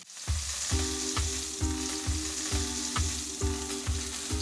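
Fish fries skin-side down in smoking-hot oil, giving a loud, steady sizzle right up close. A regular pulsing thump runs beneath the crackle, and no one speaks.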